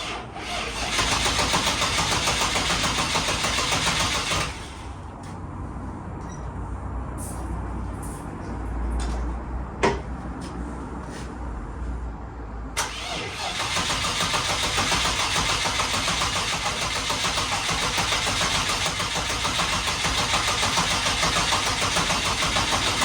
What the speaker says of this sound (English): battery charged, it was time to press the start button and see if she'd fire up